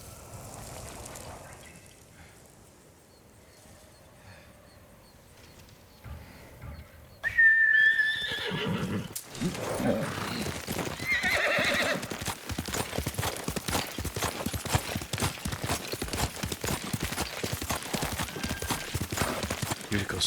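Horse hooves clop steadily after a quiet stretch, with a sharp whistle and a brief whinny, from Yuriko's horse in the Ghost of Tsushima video game. The hoofbeats are close and continuous over the second half.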